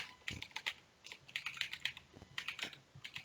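Keys clatter on a computer keyboard in quick bursts of close, crisp taps with short pauses between runs, no voices over them.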